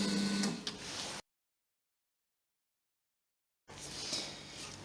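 A Kemet polishing machine runs with an adjustable-speed rotating mechanism, whirring in two steady bursts separated by a few seconds of complete silence.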